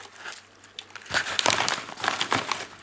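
A packet of fire-starting tinder is broken open, giving close crinkling and tearing rustles in uneven bursts that grow busier partway through.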